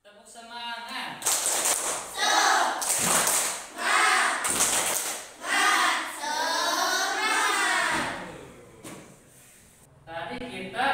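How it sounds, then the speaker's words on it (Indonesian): A classroom of students claps rhythmically in short bursts while chanting together loudly, the group voices rising and falling between the claps in a lively schoolroom. "Tepuk semangat."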